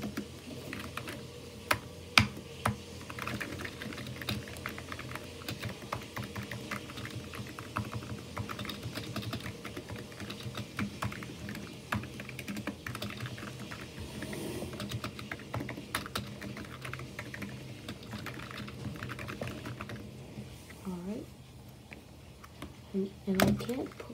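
Fingers rattle across the clicky keys of a new computer keyboard, a steady, close stream of sharp clacks in uneven bursts, with a quiet voice murmuring near the end.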